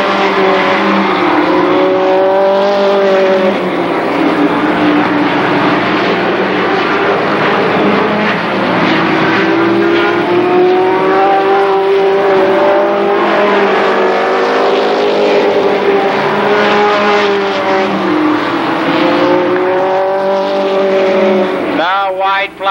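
Race cars roar through a heat race at Columbus Motor Speedway, engines droning loud and continuous with shifting pitch as they circle, while a commentator talks over the noise throughout.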